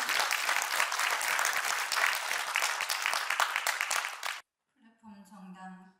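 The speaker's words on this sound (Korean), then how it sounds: "여러분 큰 박수로 맞이해 주시면 감사하겠습니다." An audience at a political party launch event applauds to welcome a poetry reader, dense sustained clapping filling the room for about four seconds before stopping abruptly, then a single voice begins speaking.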